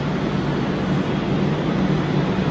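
Steady, empty ambience inside a deserted metro station in Behala on a daytime visit: a constant low rumble with an even hiss spread across the whole stretch, and no voices or distinct events.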